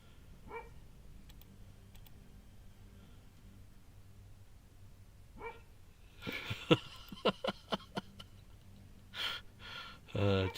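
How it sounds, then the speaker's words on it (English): A dog sound effect plays in a quick series of short, sharp barks, fairly loud against a quiet room, with a person's breathy voice heard before and after. "Dog bark."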